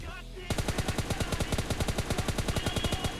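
Rapid automatic gunfire rings out in a battle royale video game, a long steady burst of about two dozen sharp close shots in quick rhythm after a short quieter lead-in.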